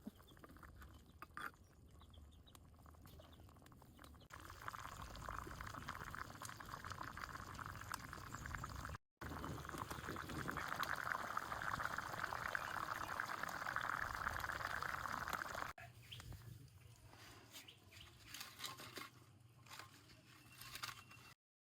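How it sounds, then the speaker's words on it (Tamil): A pot of fish curry made with small sardine-like fish boils on a village stove, giving a soft, steady bubbling hiss that swells in the middle and drops briefly, quiet and continuous without talk. "இந்த கறி கொதிக்குது."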